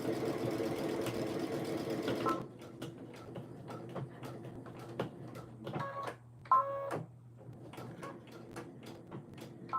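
A home sewing machine stitches through several thick layers of fabric, a steady mechanical whir for a couple of seconds that stops, followed by scattered clicks and short buzzing bursts as the needle is pushed through the bulk.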